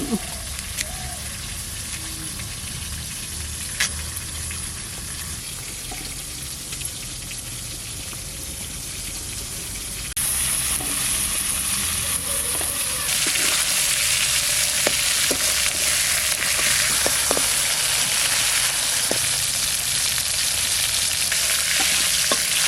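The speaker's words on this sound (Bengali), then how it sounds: "মাছ ভাজা হয়ে গেছে, তুলে নেব।" River Baush fish frying in hot oil gives a steady, close sizzle that runs alone throughout, growing louder and brighter partway through, with occasional sharp pops and crackles.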